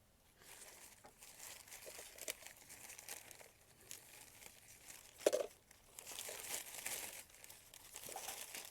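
Thin plastic crinkles and crumples steadily as it is folded for a homemade bottle fly trap, close and fairly quiet, with a sharper crackle midway and busier rustling toward the end.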